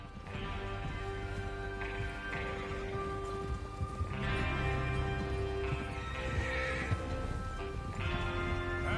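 Horses whinny repeatedly in the video game Red Dead Redemption 2 over a dense, busy background of trotting hooves and ambient noise, with no talking.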